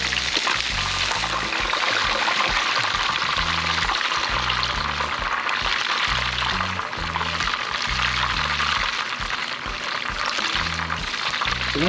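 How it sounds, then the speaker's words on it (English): Steady hiss of hot oil in a frying pan, with a continuous dribbling trickle as oil drips from a fried red snapper held above it, and low bubbling, constant and close throughout. "we hold the fish over the frying pan and we wait for most of the oil to drizzle back"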